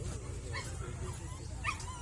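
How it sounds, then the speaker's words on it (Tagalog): A dog yips and barks at a campsite in Sta. Ana, Calatagan, Batangas, short sounds over a steady low rumble with people talking nearby. "May aso."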